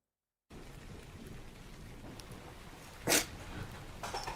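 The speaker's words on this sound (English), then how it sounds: "Rain sounds live." Steady rain falls live outdoors, a constant broadband hiss with a brief louder gust or splash near the three-second mark.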